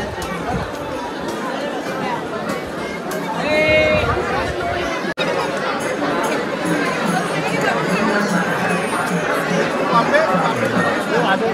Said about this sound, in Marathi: भरपूर गर्दी आहे भरपूरच